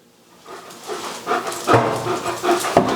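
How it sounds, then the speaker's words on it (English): Two dogs pant and scuffle while chasing each other in play indoors, with quick breathy panting and soft thumps growing louder and near, alone without talk. "got a couple of dogs in here that are chasing each other, playing."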